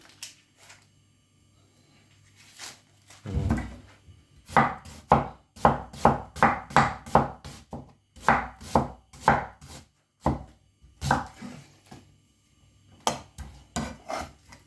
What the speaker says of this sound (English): don't worry about all this fine chopping of the onions